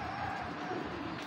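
A female Fitki pigeon in a cage gives a short, low, throaty coo, close by and steady over a brief moment, with faint background noise around it.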